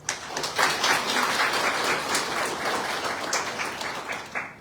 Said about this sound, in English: So please, one final round of applause.